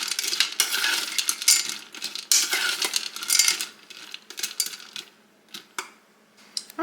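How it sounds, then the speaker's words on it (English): A spoon stirs a melting dessert mixture with heavy whipping cream in a pot at home, making close, continuous clinking and scraping against the metal for several seconds before it thins to a few sparse taps. "You want to start stirring that around."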